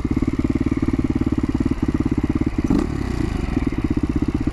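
A Husaberg 450 FE motorcycle engine idles with a steady, fast, loud thumping pulse close by, broken by a brief metallic clatter partway through.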